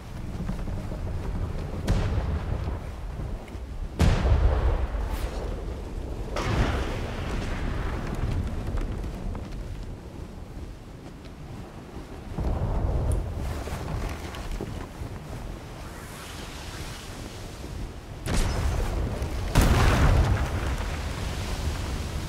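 Naval cannons fire during a ship battle in the game Atlas as a schooner is attacked and set ablaze: a series of heavy, booming blasts several seconds apart over a constant rush of wind and sea.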